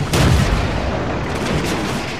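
A tank gun fires once in the World of Tanks video game, a loud, sharp boom at the start that decays into a sustained rumble of battle noise.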